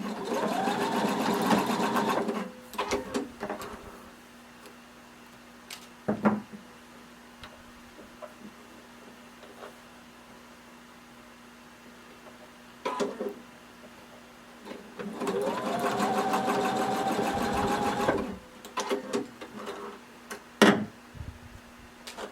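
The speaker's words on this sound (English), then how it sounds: "you're going to go ahead and stitch down your back straps" Sewing machine stitching down the back straps of a swimsuit, two long loud runs of rapid, steady needle chatter with short bursts and clicks between them.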